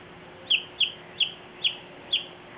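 A small chick gives five short, high peeping chirps, evenly spaced about half a second apart, fairly close and clear over a quiet background.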